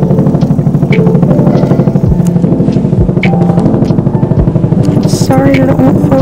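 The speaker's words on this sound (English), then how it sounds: "I was recording, then I caught this random plane" Aircraft flying low overhead at about 1,700 feet, a loud rhythmic engine drone with strong pulsing throb that holds steady throughout.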